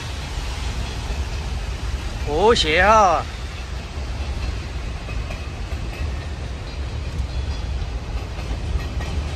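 A train rumbles past in rainy weather under a steady wash of noise, with a rising and falling horn-like tone near the start, while someone talks over it.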